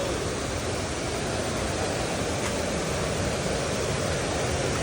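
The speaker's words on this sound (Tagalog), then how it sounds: "Yun o, nakakita rin kami ng falls." A waterfall in the forest at Busuanga, Coron, Palawan pours in a steady, dense roar that fills the whole clip at an even level, close and continuous, with no voices.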